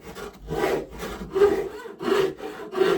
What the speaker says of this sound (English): is to slowly shape this neck into where it needs to be